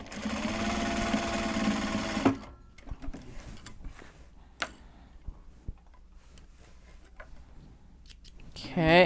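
A sewing machine stitches bags in a fast steady whir for about two seconds, then stops; scattered clicks and handling taps follow, ending in a short burst of stitching.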